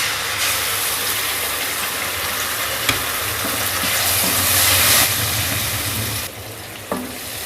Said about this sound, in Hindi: लहसुन अदरक डालकर चंद सेकंड के लिए इसको भून लें